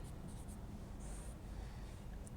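Faint scratching of chalk or marker writing a theorem on a board during a real analysis lecture, with soft strokes and brief squeaks over quiet room noise.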